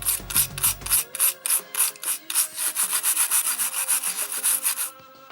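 A small brush scrubs greenish corrosion off a RAM socket on an Amiga memory expansion board, giving a fast, steady run of close, dry rasping strokes that stop near the end, with no voices.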